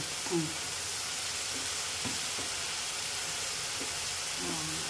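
Spices such as cumin paste sizzle steadily in hot oil in a pan for stuffed bitter gourd, a soft continuous frying hiss with a few faint stirring scrapes and no talk.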